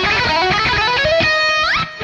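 Electric guitar rips through a very fast picked lick, dense rapid notes for about two seconds ending with a quick upward bend, loud and unaccompanied.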